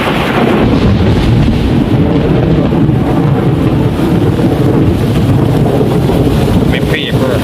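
Heavy rain pours steadily in Trinityville, a dense, loud, unbroken hiss with rumbling wind buffeting the microphone throughout.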